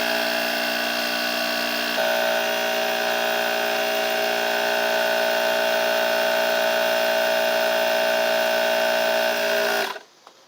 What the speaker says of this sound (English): The pump is really quiet too for a portable pump.